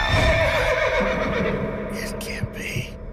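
A horse neighs and whinnies in the video game Level: Max, a loud drawn-out call over a steady game backdrop, with a few brief clops and rustles near the end.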